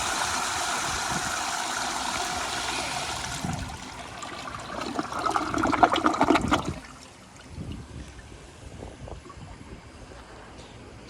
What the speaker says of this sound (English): here's another flush.